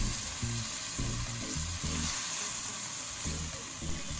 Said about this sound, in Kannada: ಇದು ಗೋಲ್ಡನ್ ಕಲರ್ ಟರ್ನ್ ಆಗೋವರೆಗೂ ಸಾಟೆ ಮಾಡ್ತಾ ಇರಿ.